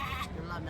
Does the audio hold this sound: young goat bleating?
yes